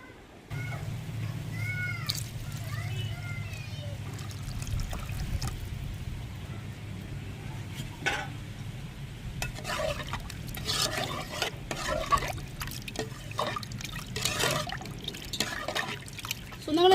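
Tamarind water is poured and stirred into a fish curry masala for a spicy ayala fish kuzhambu: quiet liquid trickling and swishing stirs, with scattered higher tonal sounds over a low hum.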